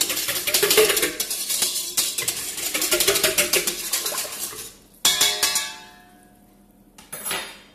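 Dough with baker's yeast is mixed in a bowl: close, busy clinks and scrapes of a utensil against the bowl, breaking off suddenly, then resuming briefly before fading.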